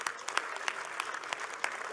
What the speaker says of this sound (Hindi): एक बार इनके लिए जोरदार तालियां बजा।